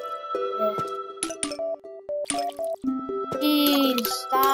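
Watering plants in Plants vs. Zombies brings a run of bright, tonal drips and plinks in short bursts, with chiming pings and sparkly tones building toward the end, clean and close.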